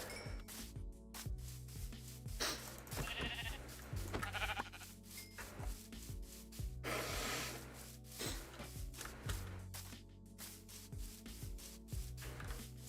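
Sheep bleat in Minecraft amid busy game sounds, with short, fairly loud bleats repeating over a rubbing, scraping background.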